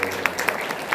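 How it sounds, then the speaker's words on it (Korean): Audience applause in a Christian school parent-education lecture hall, thanking the lecturer; a steady patter of clapping with a few sharper claps standing out, moderately loud throughout the short burst. "우리 박수로 감사하겠습니다"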